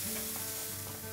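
Garlic and salt seasoning sizzle steadily in a pan over a high flame, a continuous close frying hiss with a faint low hum underneath and no voices.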